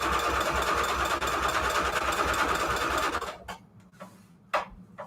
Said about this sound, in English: I'm just sewing around the edge.